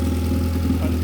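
A turbocharged F23 Honda Accord engine with a large vacuum leak idles steadily while warming up, a low, even hum heard close by.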